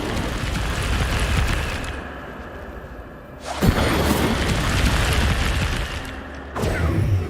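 Incendio fire spell cast in Hogwarts Legacy, heard as loud roaring bursts of flame that flare up twice in quick succession over a rumbling background of game effects.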